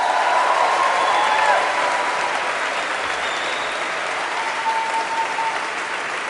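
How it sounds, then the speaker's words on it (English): A large audience of graduating students at a university commencement ceremony applauds in a sustained, dense wash of clapping that slowly eases off, with faint cheers mixed in. "why don't you give yourselves a round of applause?"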